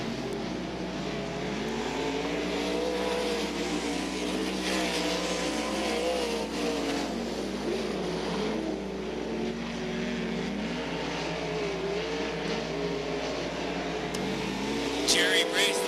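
Dirt track race cars circling Gallatin Speedway in Belgrade, Montana late in a feature race, a steady engine roar with rising and falling passes, while an announcer talks over it throughout.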